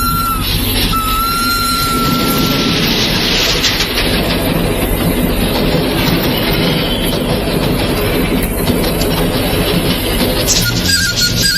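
A loud train rumbles close by, wheels clattering steadily with occasional faint squeals over continuous heavy noise.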